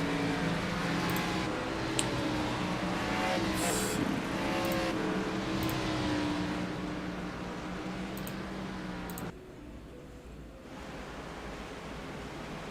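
Several race cars in the iRacing sim roar around Daytona in a steady, dense engine drone with layered pitches, heard from a trackside view of the pack; the sound drops and thins abruptly near the end.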